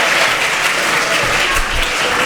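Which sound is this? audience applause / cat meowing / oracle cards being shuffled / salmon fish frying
audience applause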